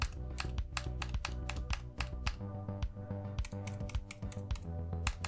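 Rapid, uneven keystrokes on a laptop keyboard, close and clear, clattering continuously with short pauses between bursts of typing and no voices.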